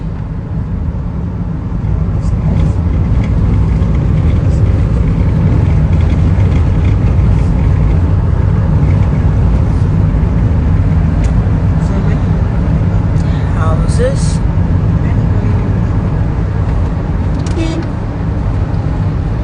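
A car cruises along a smooth road in The Ascent's Prime City, a steady low engine and road drone throughout, with a few faint clicks over it.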